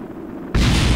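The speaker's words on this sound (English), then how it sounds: "Explosions." A spacecraft blows apart in the Kerbal Space Program video game, heard as a sudden loud, sustained explosive roar that bursts in after a quiet half-second.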